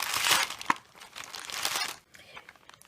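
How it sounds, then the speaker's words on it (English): Crinkling plastic bag as chocolate almond peppermint bark candy is slid inside, with bursts of rustling and crackling that swell and fade, close up and fairly loud. "Slide them into a plastic bag."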